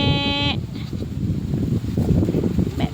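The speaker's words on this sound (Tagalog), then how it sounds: "Ito yung kambing ni tatay." A single short goat bleat sounds at the start, followed by windy outdoor rumble and faint background noise.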